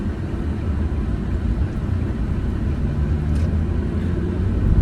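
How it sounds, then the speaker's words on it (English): Steady low road and engine rumble from inside a moving car, a continuous broadband drone with no talk. "Oh, the joys of driving."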